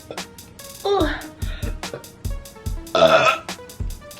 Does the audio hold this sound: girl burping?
yes